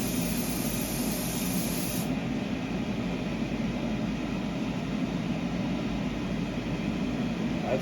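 Steady, continuous hiss of an aerosol can spraying gold paint onto a spoon, loud and close, with no pauses throughout.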